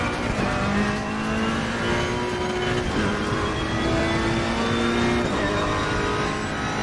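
Ferrari 488 race car engine in the Assetto Corsa Competizione sim racing game, revving hard with rising and falling pitch through repeated gear changes, loud and continuous, with some tire noise.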